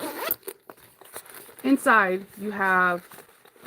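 Zipper on the inner pocket of a simple tote bag with Nicole's Beautiful Hardware, two quick close zips in a row, with someone talking briefly just before.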